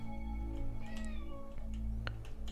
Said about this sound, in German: Jetzt ist auch die liebe Katze wieder da.